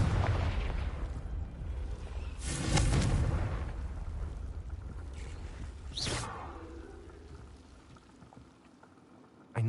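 A Confringo blasting spell in the Hogwarts Legacy video game goes off as a loud, booming burst, followed by a second sharp crackling blast a few seconds later and a fading rumble.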